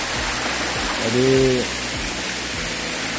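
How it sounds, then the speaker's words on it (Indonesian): Waterfall on the Curug Cileat trail in Subang, heard as a steady, full wash of cascading water throughout, with a brief voice speaking over it midway. "bagus sebenarnya pancuran air terjunnya"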